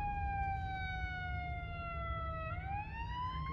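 A fire engine siren wails at a traffic stop, one steady falling tone that then sweeps back up, heard from a distance over low road rumble.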